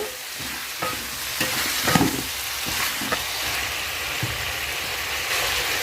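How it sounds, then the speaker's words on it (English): Salt, curry powder and chili flakes stirred into chicken masala in a frying pan, a steady sizzle with a spoon scraping and stirring through it in short strokes. "salt, curry powder, chili flakes. Give it a quick stir."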